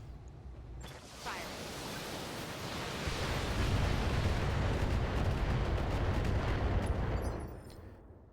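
Mech weapons fire in a BattleTech battle as a sustained, roaring barrage that builds and holds loud for several seconds before cutting off, with rumbling blasts and crackle.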